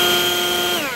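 A Greenworks cordless leaf blower runs loud and close with a steady high whine, its pitch sliding downward near the end as the trigger eases off.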